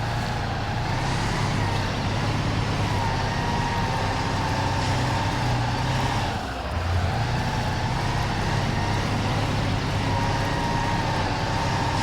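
A truck engine in the Mudrunner video game labors up a hill in West Virginia, a loud, continuous low rumble with a brief dip midway, and no one talking.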